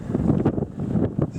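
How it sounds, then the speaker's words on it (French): Strong wind gusts buffet the microphone on a hiking trail in the Hérault hills along the GR 7, with loud, roaring bursts rising and falling in quick succession, with no voices. "il y a des rafales de vent impressionnantes"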